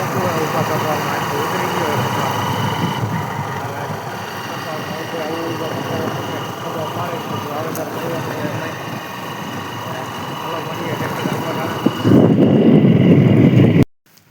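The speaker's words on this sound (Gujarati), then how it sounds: "આવી ગયા ટ્રેક્ટરે આ છે આપણું ટ્રેક્ટર" A low tractor engine rumbles steadily throughout with wind buffeting the microphone, growing louder near the end before cutting off; voices talk over it.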